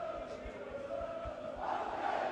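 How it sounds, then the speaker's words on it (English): A rugby stadium crowd jeers and murmurs in protest over a pass they judge forward, a distant sustained roar that swells toward the end, with no clear voices standing out. "Crowd not happy, they think it's forward."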